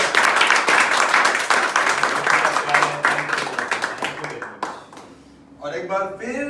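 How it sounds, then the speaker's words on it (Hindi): An audience claps for Bhaskar at his birthday event, steady loud applause with a voice speaking over it, fading briefly before talk and clapping pick up again. "और एक बार फिर भास्कर सर को once more तालियां।"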